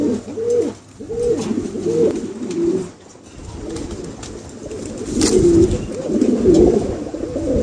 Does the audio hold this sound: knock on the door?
no